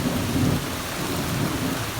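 Steady rain pours down on a garden in July, a dense, constant hiss of drops with a low rumbling undertone, heard alone without any voices.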